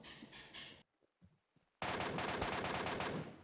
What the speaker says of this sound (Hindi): मैंने सिर्फ 2 गोलियाँ लगाई MK की